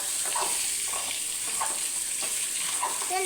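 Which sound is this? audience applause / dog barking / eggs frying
eggs frying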